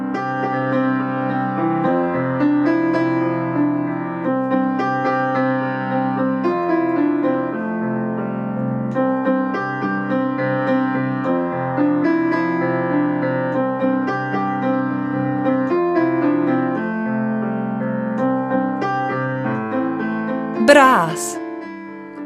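A reed wind instrument, its thin reed set vibrating by the musician's breath, plays a close, clear melody of sustained and shifting notes without a pause, ending with a short sharp noise near the close.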